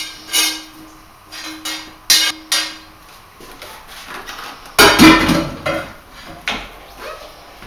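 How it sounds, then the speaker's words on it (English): Cooked onions, garlic and ginger go into a pan for sticky Chinese spare ribs, heard as a series of sharp metallic clanks and scrapes of a utensil against the pan, then a louder burst of sizzling and clatter. "I'm going to add in the onions, garlic and ginger that we have cooked earlier"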